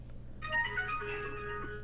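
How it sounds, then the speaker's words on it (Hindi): A mobile phone's melodic ringtone starts after a brief quiet moment and plays on steadily at a moderate, fairly soft level, with no talking over it. "फोन आ गया"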